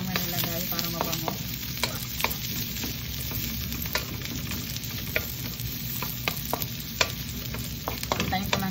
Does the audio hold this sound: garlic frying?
yes